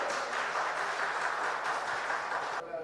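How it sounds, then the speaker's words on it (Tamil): An audience at an astrologers' association conference claps in welcome for a speaker, a dense, steady round of applause that fades near the end. "வருக வருக என்ற ஒரு கைத்தட்டலுடன் வரவேற்போம்"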